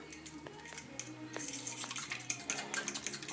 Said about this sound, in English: And then we're going to mix it all up.